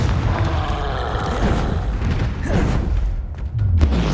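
Confringo fire spell blasting in the Hogwarts Legacy video game, a dense rumbling burst of booming impacts that rolls on continuously at high volume with no voices.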